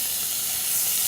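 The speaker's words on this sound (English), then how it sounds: "if you hear that sizzle, you know it's working." Shrimp sizzling steadily in hot olive oil in a pan, a dense, continuous hiss close up with no pauses and no voices over it.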